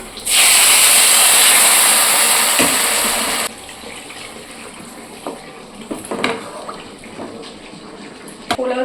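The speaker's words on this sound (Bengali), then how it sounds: "এই যে চাল ভাজা হয়ে গেছে এখন জল দিয়ে দিই" Water poured onto fried Rabindrabhog rice in a hot pan hisses loudly in a burst of steam for a few seconds, then dies down to a softer simmer with occasional faint clinks nearby.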